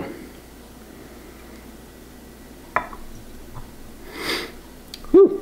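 A person sniffs a Goose Island Bourbon County Brand imperial stout, with a short sharp inhale near the end over quiet room noise and a few faint clicks beforehand.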